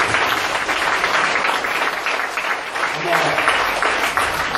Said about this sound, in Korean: 일단 한번 박수 한번 붙여드리겠습니다.